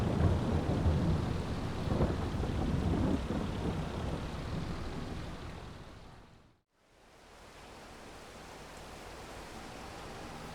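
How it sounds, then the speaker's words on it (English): Steady heavy rain with low thunder rumbling in Farming Simulator 22, loud at first and easing, cutting to near silence for a moment before softer rain resumes alone. "Bloody raining."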